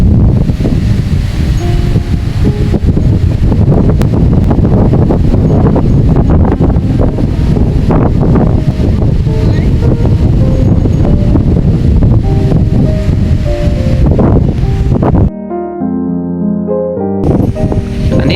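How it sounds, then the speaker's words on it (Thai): Strong wind buffeting open rice fields, a loud continuous roar and rumble with gusts, dropping abruptly to quieter tonal sounds near the end. "ลมก็แรงด้วยวันนี้"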